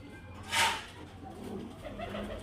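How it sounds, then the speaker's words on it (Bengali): Pigeons of a high-flying breed coo in a short, low, soft burst, with a brief brighter flutter or call near the start and steady background noise beneath. "এটাও দুর্দান্ত কোয়ালিটির পায়রা ফ্রেন্ডস, দুর্দান্ত ওড়ানের পায়রা"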